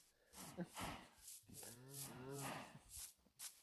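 A Minecraft cow gives several drawn-out moos in a row, clear and fairly close, with faint game ambience and short gaps between calls.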